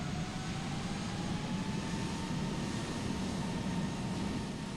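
An American Airlines airliner lines up and takes off in Microsoft Flight Simulator, a steady, fairly faint jet engine drone with a low rumble and a thin whine, unchanging and without voices.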